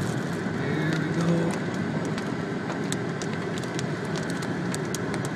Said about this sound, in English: I hear the raindrop.